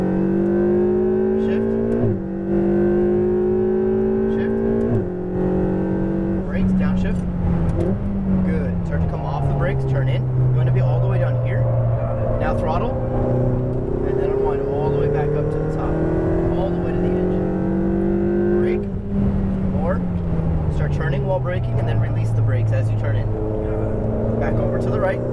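Ferrari 488 GTB on a racetrack, engine rising and falling in pitch through repeated acceleration and braking, loud and continuous, with a driving instructor talking over it.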